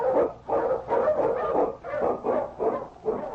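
King, an Eskimo lead dog, barks and yips in a rapid, repeated series, close and fairly loud, with several bursts in quick succession.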